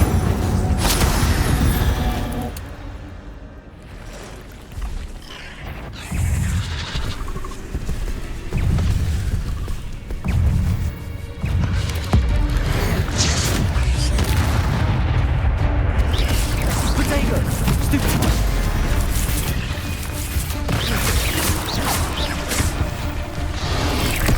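Fire spell cast in Hogwarts Legacy, a burst of whooshing flame amid a dense, continuous wash of booming impacts, crashes and swishes from spells and combat, loud and busy throughout with no speech.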